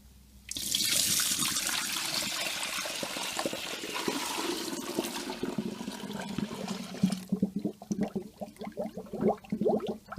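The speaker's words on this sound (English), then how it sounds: "So now we're going to use the sanitizer solution to put into the hopper." Sanitizer solution poured into the hopper of a Carpigiani 141 ice cream machine, a steady rushing splash that starts abruptly and runs for several seconds, then breaks into choppier gurgles and drips.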